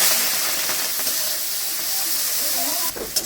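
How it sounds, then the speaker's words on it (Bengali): Prawns frying in hot oil in a wok give a steady, close hiss and sizzle that holds evenly throughout, with a brief shift near the end. "এবার আমি চিংড়ি মাছগুলো ভেজে নিচ্ছি।"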